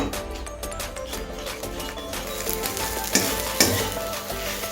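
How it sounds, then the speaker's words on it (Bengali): Ridge gourd mash frying in a pan while a utensil stirs it, making a continuous sizzle with scraping strokes and two sharper knocks against the pan near the end. "এবার এটাকে আমি নাড়তে নাড়তে একদম টাইট করে নেব।"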